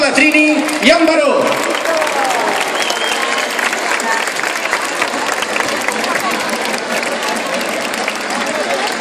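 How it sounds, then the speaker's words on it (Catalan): Outdoor crowd at the 2013 Nou Barris Festa Major in Barcelona breaks into steady, loud applause that holds throughout, with brief voices near the start and crowd noise mixed in. "un fort aplaudiment per la Trini i en Baró."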